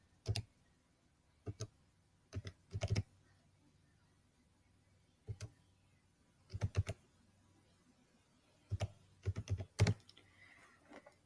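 Bursts of keystrokes on a computer keyboard as a book's ISBN is entered, several short clusters of clicky taps separated by quiet pauses, close and fairly clear.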